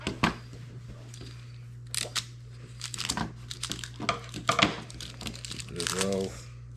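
Scissors snip and crinkle packaging off a telescopic pole in irregular bursts of plastic crackling and cutting, close-up, with someone talking intermittently and a steady low hum underneath.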